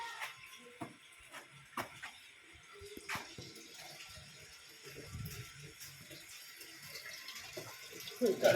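Water running from a motor-pumped tap at a home sink, a steady faint rush with scattered clinks and knocks rising slightly toward the end.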